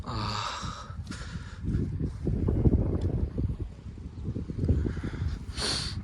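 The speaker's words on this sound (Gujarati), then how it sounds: "તમે જોઈ શકો છો કેવો ઠંડો પવન છે સવાર સવારમાં." Cold early-morning wind gusting across an open cumin field, a steady rough rumble that swells and eases throughout, with no voices.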